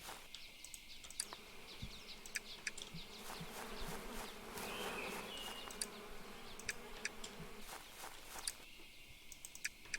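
Bees buzz in the video game Apico, a soft steady hum beneath scattered light clicks and ticks from the game for about ten seconds, with no talk.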